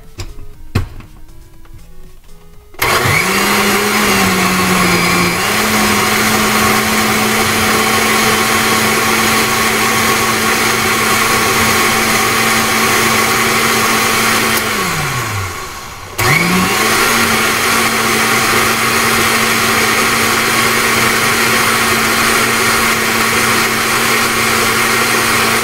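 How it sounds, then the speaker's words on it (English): A kitchen blender whirs loudly, blending pineapple, sugar and water for juice: the motor starts up, runs steadily, winds down briefly, then spins back up and keeps a continuous high whine to the end. "Once you have all those ingredients into your blender, then I will blend them all together"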